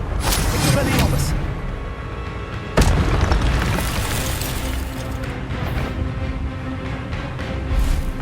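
Expelliarmus spell effects in Hogwarts Legacy, played with spoken spell names, produce loud, dense magical blasts and booms. One sharp impact stands out midway, and in-game voices carry over the effect.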